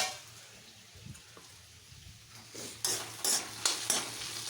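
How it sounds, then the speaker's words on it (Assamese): A vegetable bhaji sizzles softly in a pan, then a utensil stirs it in several louder scraping strokes, close up. "তাই এটা ভাজি বহাইছে ভাজিটো লৰাই দিব দিছে অলপ"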